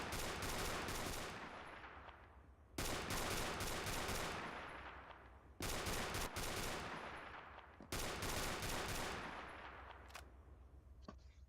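Automatic fire from an AA-12 shotgun in a video game: four loud sustained bursts of rapid booming shots, each fading out before the next, with no talking.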